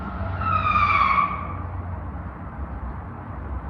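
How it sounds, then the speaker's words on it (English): A car's tyres screech in a loud skid on a busy street, lasting about a second before fading under steady traffic rumble, heard from nearby outdoors. "there was like almost a car accident right in front of me"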